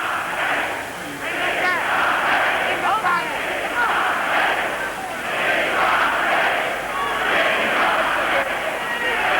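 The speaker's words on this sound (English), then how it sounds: "that's the way to cheer their man on." A boxing arena crowd at a 1980 heavyweight title fight roars and chants continuously for their fighter, a dense, sustained wall of cheering with rhythmic surges.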